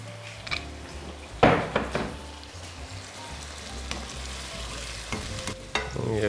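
Pork with courgette and vegetables frying in a pan with white wine, a steady sizzle under intermittent stirring scrapes and utensil knocks against the pan, close and moderately loud.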